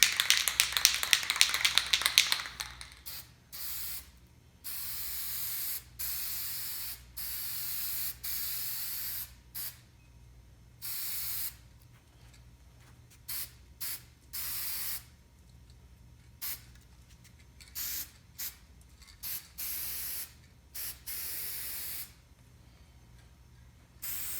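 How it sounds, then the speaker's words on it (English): A spray can hisses in one long loud burst across a taped canvas, then in a series of shorter sprays separated by brief pauses. "I want to spray it across this way and then across this way"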